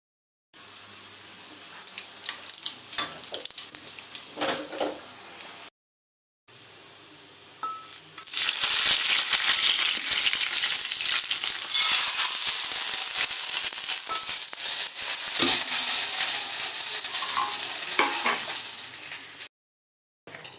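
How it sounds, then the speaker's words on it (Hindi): Spices sizzle and crackle as they temper in hot oil, with sharp popping bursts, growing louder partway through and continuing without any talk. "थोड़े से ऑयल में उसका बघार लगाते हैं।"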